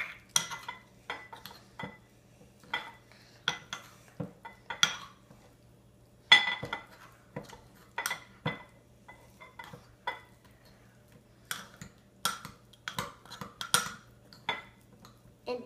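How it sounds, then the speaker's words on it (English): Purple mashed potato mixed in a bowl, a spoon clinking and scraping against the dish in irregular bursts, fairly close and alone, with no talking. "Now mix it all together."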